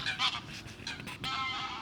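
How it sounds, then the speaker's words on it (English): A flock of geese honks loudly as it flies past over a gravel pit in Oxfordshire. Overlapping calls come in several bursts, close and clear, with no talking. "Wait for these geese to go past."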